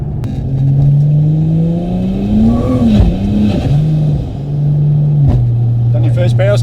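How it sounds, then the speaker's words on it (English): A 1000HP turbo Barra-engined car revving hard through a power skid, loud engine roaring with rising and dipping pitch and a brief drop near the end, with voices talking over it. "Done your first power skid."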